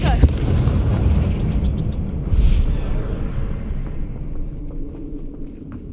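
A Confringo spell explosion goes off in the video game Hogwarts Legacy as a sharp blast followed by a rumbling boom that slowly fades, with a second burst partway through.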